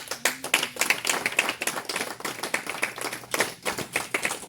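A church congregation claps rhythmically in praise of the Lord, a dense, steady run of loud, sharp handclaps filling the whole stretch, with faint voices mixed underneath.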